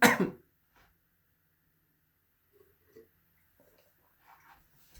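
A single sharp cough up close, then quiet with a few faint breaths and small mouth sounds.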